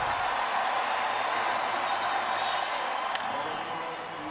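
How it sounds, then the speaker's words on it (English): Stadium crowd at the 2021 Home Run Derby roaring and cheering in a steady, dense wash of noise, with applause mixed in and a brief sharp crack near the end. "And now the crowd gets into it."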